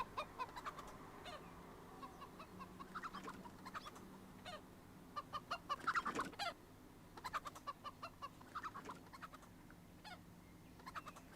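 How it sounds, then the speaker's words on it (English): Chickens cluck in repeated short bursts in the video game CS:GO, faint and scattered across a quiet game background, with one louder flurry in the middle. "And just hear those chickens clucking away."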